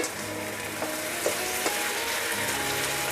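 Chicken frying with soy sauce in a cooking pot, a loud steady sizzle with a few soft scrapes and knocks from stirring, close and without talk.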